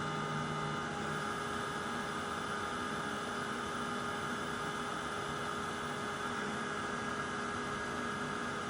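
A heat embossing tool blows a steady, even whirring roar across embossing powder on a card, melting it. The hum holds constant and close throughout, with no talking.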